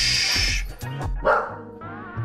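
A pet dog barks and yelps in short, loud bursts indoors while a thunderstorm rolls in, the barks clustered in the first half and again near the middle, with quieter whimpering noise between.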